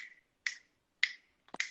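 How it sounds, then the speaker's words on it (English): Finger snapping, three or four crisp, sharp snaps spaced about half a second apart, close and fairly quiet against near silence, with no talk. "I'm already snapping my fingers."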